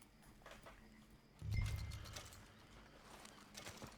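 Horse hooves clopping in a video game set on the road to Rhodes, a burst of steps starting partway through and continuing at a moderate pace over faint background sound.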